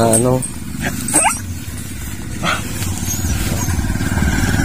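Dogs yip and bark briefly close by while a person talks and an engine drones steadily in the background.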